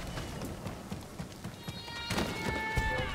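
A horse's hooves gallop across the ground in Ghost of Tsushima, a quick rhythmic clip-clop that holds steady and close, and a whinny and other game sounds join near the end.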